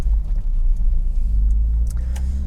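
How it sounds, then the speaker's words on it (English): Volkswagen Scirocco MKII GTX driving on the road, a steady low engine and road rumble heard from inside the cabin, fairly loud and continuous with no talking. "So now we are in the Volkswagen Scirocco Mark II"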